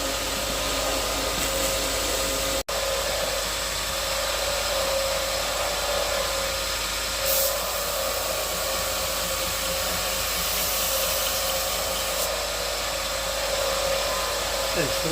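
Steady loud whine of a grinder rough grinding a knife blade for a slip joint knife, continuous and close for the whole stretch with one brief dropout near the start.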